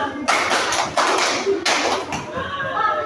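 Hand clapping in a group, several sharp claps spaced about a second apart, fairly close and loud, with faint voices underneath.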